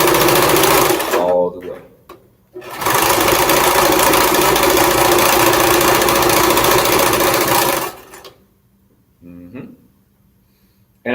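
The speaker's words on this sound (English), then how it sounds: "I'm hearing some machine clank" A sewing machine running a zigzag stitch along a fabric edge while making a black power flag, in long loud continuous bursts with a brief pause, then stopping, with faint sounds and talk afterward.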